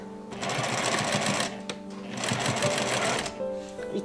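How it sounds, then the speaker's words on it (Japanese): A sewing machine runs a topstitch about 1 mm from the edge around a sleeve facing, giving a steady close whir with a brief break midway and a short pause near the end. "見返し周りにステッチをかけていきます。"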